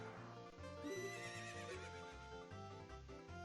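Epona, the horse in The Legend of Zelda, neighs over looping game music. A loud whinny is backed by rhythmic hoofbeats and a steady melodic soundtrack.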